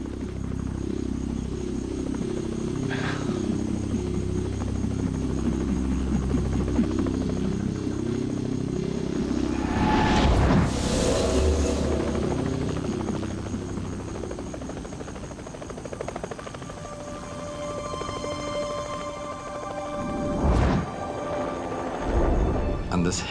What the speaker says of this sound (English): And this helicopter comes flying in from our left.